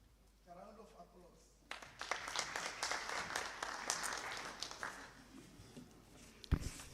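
Audience applause in a provincial legislature chamber during a Freedom Day debate, starting abruptly after a quiet opening and holding steady for several seconds before thinning out, with a sharp knock near the end.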